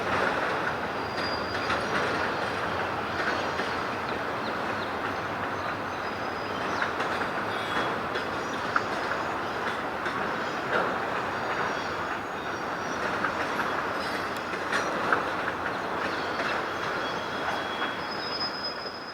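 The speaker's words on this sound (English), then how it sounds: "NS259 can be seen crossing the third and current bridge across the Susquehanna." Norfolk Southern freight train crossing the stone-arch Rockville Bridge over the Susquehanna River, heard as a steady, moderately distant rumble of rolling cars with rhythmic wheel clicks and occasional faint squeals, no talking.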